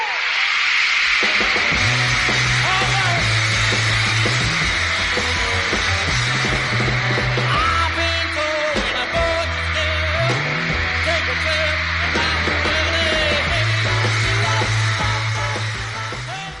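Fans scream in a continuous, deafening wall of sound at a live concert, nearly drowning out the band's music underneath.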